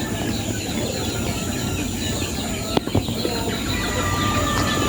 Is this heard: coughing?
no